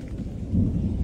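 Thunder rumbles low and heavy through a steady rainstorm in a rural Bangladeshi field, a deep continuous roll under the constant hiss of falling rain, with no voices.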